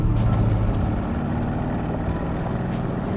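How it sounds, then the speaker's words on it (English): Engine of a 2026 Aston Martin Vantage Roadster, AMG-sourced, heard with the top down: a steady, loud low rumble with a mid-range growl held at an even level throughout, with faint ticking above and no talk. "you can hear the phenomenal engine note that comes out of the AMG sourced"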